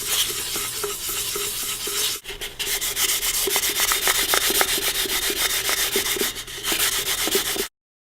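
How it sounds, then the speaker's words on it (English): 2000 grit sandpaper polishes the cut edge of a glass bottle, loud, close, rhythmic rubbing strokes in rapid back-and-forth succession, pausing briefly once before resuming and stopping abruptly. "Now we're using 2000 grit sandpaper to polish it even further."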